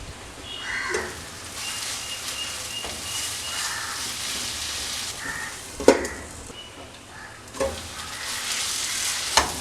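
Chicken masala cooks and is stirred in a pan, a continuous close sizzle broken by several scraping stirs and clatters of the spoon against the pan.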